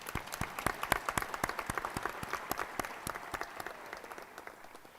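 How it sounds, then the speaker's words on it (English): A seated crowd at a ceremony for new commissioners gives a round of applause, with distinct claps standing out at first and then thinning into a softer, fading patter, with no talk. "I would like to request another round of applause for all of them"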